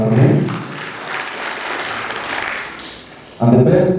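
An audience at a university debate event claps for a debater, a moderate round of applause that swells and fades, with a voice speaking over the start and end.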